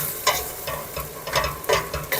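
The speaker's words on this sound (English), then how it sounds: "We'll season this all up with a little salt and pepper. Give it a nice stir." Vegetables seasoned with salt and pepper being stirred in a pan for a Neapolitan Genovese ragù, a few scraping strokes of the spoon over a soft, steady sizzle, close up with no talking.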